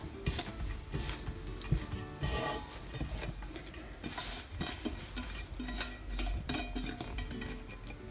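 Spinach pitod mixture is stirred in a pan with a metal utensil, giving repeated close scraping and clinking strokes over a light sizzle, steady and busy throughout without speech.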